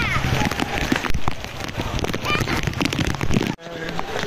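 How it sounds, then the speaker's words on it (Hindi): Heavy rain pours steadily during a family outing in Haridwar, a dense hissing patter on surfaces close by with sharper drop impacts, briefly cut off near the end, with voices faintly under it. "ये देखो कितनी बारिश है"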